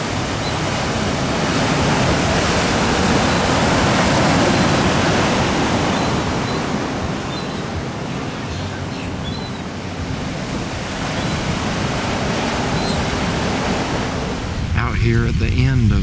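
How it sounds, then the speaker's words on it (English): Ocean waves break steadily beneath Jennette's Fishing Pier at Nags Head, North Carolina, where surfers ride the swell. The surf makes a continuous broad roar mixed with wind buffeting the microphone, and it swells slightly in places. "There's a nice wave."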